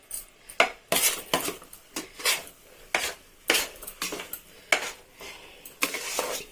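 Pineapple kesari mixed in a pan, a series of close, sharp scrapes and knocks as a utensil stirs against the metal, arriving in irregular bursts with short pauses between them, no voices.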